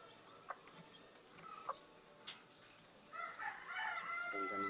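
Newly hatched Serama bantam chicks give faint, scattered peeps in a quiet indoor setting, then a louder cluster of chirping near the end.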